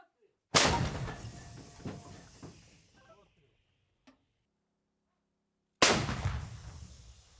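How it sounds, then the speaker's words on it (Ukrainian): Two loud, sharp booms from a 2S1 122 mm self-propelled howitzer firing, a few seconds apart, each followed by a rumbling decay, with faint clicks and movement between them. "Постріл!"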